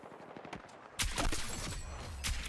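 Sniper rifle fire in an online shooter on the Liberation Peak map, with a sharp loud shot about a second in, then a ringing tail and a second crack near the end.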